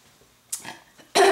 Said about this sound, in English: I tend to clear my throat a lot if I've had dairy.